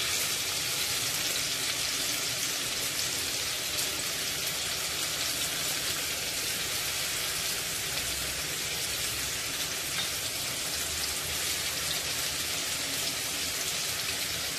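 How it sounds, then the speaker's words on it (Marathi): Jitada fish pieces fry on a hot tawa over medium heat, giving a steady, even sizzle like rain that holds at a constant level throughout, with no talking. "ह्या तुकड्यांना आपण 7 ते 8 मिनिटं मंद आचेवर फ्राय करून घेऊया"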